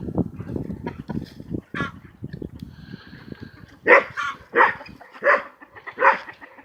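Dogs bark near a flock of feeding farm chickens, several sharp, fairly close barks in the second half, with softer yips and clucking-like rustle beforehand.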